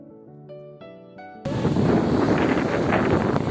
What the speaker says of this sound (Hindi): मौसम अच्छी है और यहाँ हवा भी चल रहा है। झरना गिर रहा है।